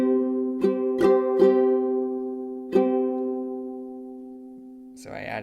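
Ukulele strums for the One Piece opening: a few sharp strokes in an uneven up-down pattern, each chord ringing out, then a brief voice begins at the end.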